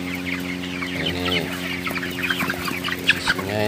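Broiler chickens cluck in a crowded pen, with a steady drone of many birds and several nearer clucks and short calls rising over it at moderate loudness.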